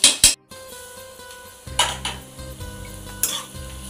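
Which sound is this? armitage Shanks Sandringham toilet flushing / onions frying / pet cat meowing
onions frying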